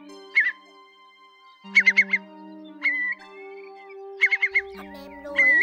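Eurasian curlew calls, clear and close: short bursts of rapid rising whistled notes repeated in clusters, with a faint steady tone underneath and a low rumble near the end.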